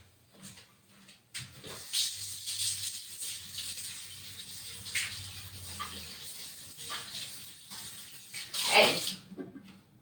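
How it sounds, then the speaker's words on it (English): Hands being washed under a running kitchen tap while making homemade pizza, with irregular bursts of splashing water that swell and fade, and one brief spoken word. "Let me just wash my hands."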